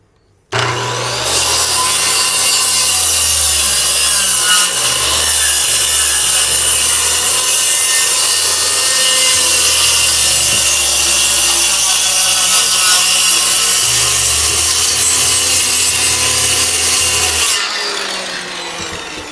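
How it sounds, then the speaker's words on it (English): Power saw cutting steadily through the wooden floor of a mobile home or trailer, a loud continuous grinding rasp that runs unbroken for about seventeen seconds before stopping, with no voices. "Now we're going to cut the line going towards the wall and try not to hit all these little staples right here."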